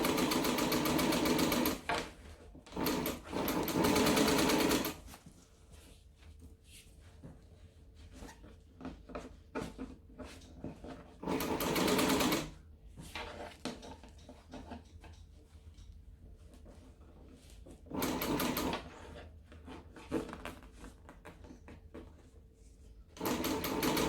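A home sewing machine stitches in several loud, fast bursts of rapid mechanical whirring, with quieter pauses of fabric handling and small clicks between the runs.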